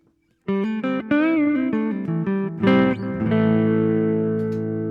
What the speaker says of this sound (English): This is how it sounds with the boost engaged for channel 1.